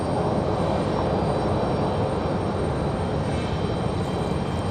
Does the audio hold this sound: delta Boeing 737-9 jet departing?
yes